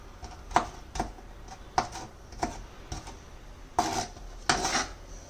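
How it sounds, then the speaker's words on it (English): A knife roughly chops hard-boiled eggs for egg salad, knocking against a cutting board in about ten uneven, sharp taps close by, with quiet pauses between and no talking. "I'm just roughly chopping it up into smaller pieces."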